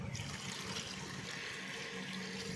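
Water pours into a pan of mango dal being cooked, a soft, continuous gushing splash, faint and unbroken throughout.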